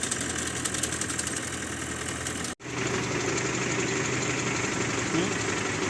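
A tractor engine drones steadily and loudly while it tries to pull a heavily loaded trolley stuck in a wet paddy field, with a brief sharp dropout midway and voices faintly mixed in.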